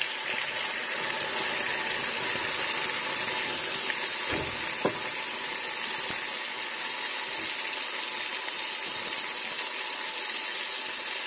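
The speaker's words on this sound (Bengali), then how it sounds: "এবার আমি সর্ষে আর সাদা সর্ষে আর কাঁচা লঙ্কা বাটাটা দিয়ে দিচ্ছি" Mustard and green chili paste sizzles in a hot pan, giving a steady broadband hiss that stays level and close, with a couple of brief clinks partway through.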